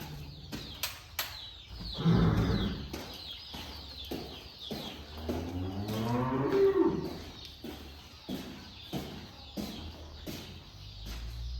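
Cows on a farm moo loudly and repeatedly at close range, with long low calls rising over a background of sharp knocks and clattering. No one speaks.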